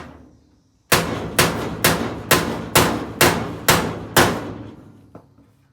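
Eight sharp, evenly spaced hammer blows ring out close by, flattening a poked-out floor panel against a bolted-down brace used as a dolly, followed by one faint tap after a pause.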